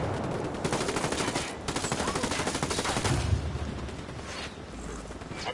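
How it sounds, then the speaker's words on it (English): Sustained automatic gunfire as Unidad soldiers fire on cartel fighters in a video game, rapid overlapping bursts and shots filling the scene continuously, loud and close with a heavier blast near the middle. "Unidad's firing on the cartel."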